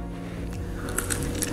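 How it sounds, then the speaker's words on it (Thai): Close, crisp crunching bites into an air-fried garlic chicken wing, a few sharp crackles over a steady low background hum. "ทีนี้จะลองมาชิมให้ดูสักชิ้นหนึ่งนะครับ"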